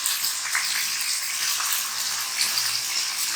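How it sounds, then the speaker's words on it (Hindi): Boneless chicken frying with ginger and garlic in a pan for malai chicken, a loud, close, continuous sizzle and crackle with faint stirring, and no voices. "चिकन को थोड़ा सा जिंजर गार्लिक के साथ फ्राई करना है"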